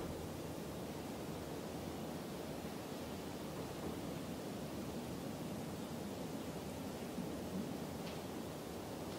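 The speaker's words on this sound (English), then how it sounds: "I think it's just the wind on the roof." Steady wind rushing over a roof at night, a continuous broadband roar with no gusting breaks, fairly loud and unbroken throughout.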